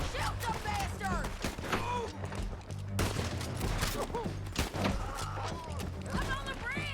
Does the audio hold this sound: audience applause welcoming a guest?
no